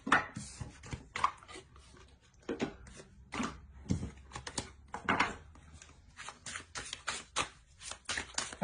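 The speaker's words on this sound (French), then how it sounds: "On va tirer une carte conseil." Tarot cards are shuffled and drawn: a run of crisp, irregular card snaps and riffles with quick flicks and soft slaps, close and fairly quiet, with no talking.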